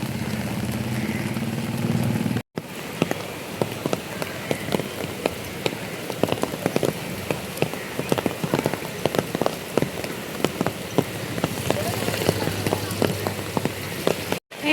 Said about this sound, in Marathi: लय पाऊस आहे.